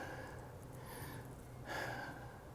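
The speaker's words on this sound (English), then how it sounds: "You can hear me breathing a little heavy now because I'm going from a nice flat trail." Heavy, rough breathing from a hiker climbing uphill on the Chestnut Ridge Loop Trail in Virginia: faint, airy, continuous huffs with a stronger exhale near the end, over steady outdoor background noise.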